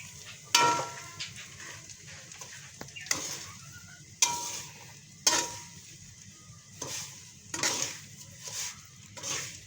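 Semolina (suji) is stirred and roasted in hot ghee in a pan for suji halwa, a soft sizzle broken by repeated scraping strokes of a spoon, about seven of them at an uneven pace, close and fairly quiet.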